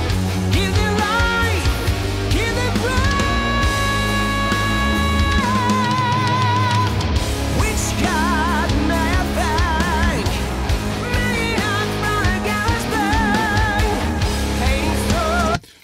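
An original mix of a rock power metal song plays at full volume throughout, with dense driving guitars, drums and bright sustained melodic lines, then cuts off abruptly at the end.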